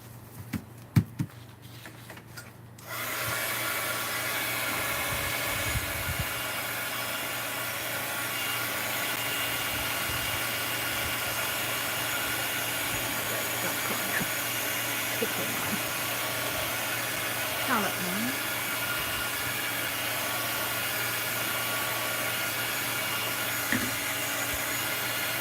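A heat tool or dryer blows steadily over a mixed media art journal page, switching on after a few quiet seconds and holding a loud, continuous whooshing drone to the end.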